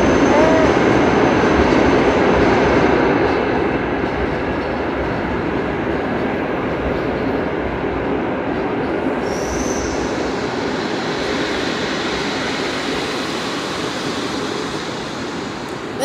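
EP07 electric locomotive hauling a train through Wrocław Główny station, a loud steady rumble of rolling wagons with wheel noise and a brief high squeal, close by and continuous throughout.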